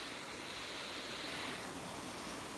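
A waterfall rushes with a steady, even roar that stays faint and constant throughout, with no other sounds.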